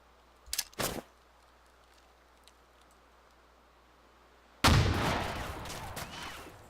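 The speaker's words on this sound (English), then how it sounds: "Now you just heard the, you know, the explosions go off." Two short sharp bangs early on, then a loud broadband explosion from an M67 frag grenade in the video game Arma 2, rumbling and slowly decaying over the last couple of seconds.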